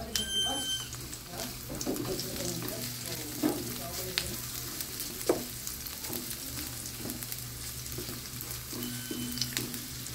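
Chopped onion frying in a pan while cooking mackerel with cabbage, a steady close sizzle broken by scraping stirs, with brief speech now and then.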